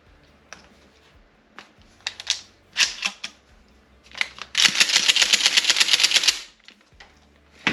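Shotgun shells are pushed one at a time through the load gate of a Benelli shotgun, giving scattered metallic clicks and snaps followed by a dense burst of rapid ratcheting clatter, close and fairly loud.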